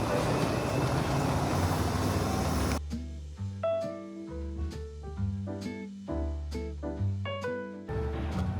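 Loud rumbling rush of a moving subway train in Nagoya, Japan gives way to an electronic chime melody playing over the steady hum of the carriage.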